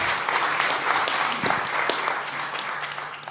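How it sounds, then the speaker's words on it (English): Steady applause from a conference audience after a lightning talk by speaker Gina, a continuous wash of clapping at moderate level lasting a few seconds. "Another round of applause, please, for Gina."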